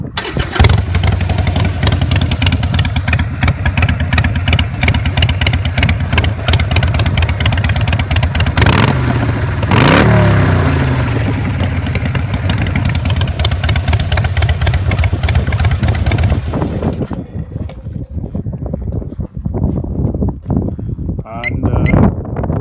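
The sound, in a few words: Harley-Davidson Iron 883 motorcycle engine starting and running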